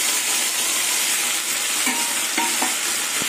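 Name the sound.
raw fish frying and stirring in spice paste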